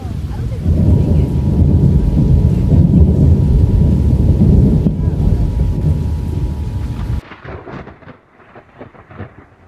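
Severe thunderstorm in the storm-chasing game Twisted: loud, sustained rumbling thunder with heavy rain roars close for several seconds, then cuts to a quieter patter of drops.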